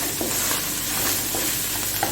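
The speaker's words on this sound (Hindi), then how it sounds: "1 टीस्पून में काली मिर्च डालूँगी तकरीबन, थोड़ा सा डाल दूँगी और इसको भी अच्छी तरह फ्राई कर दूँगी।" Coriander powder and black pepper fry in hot oil for a qeema macaroni, giving a steady close sizzle with soft stirring scrapes and occasional light knocks in the pan.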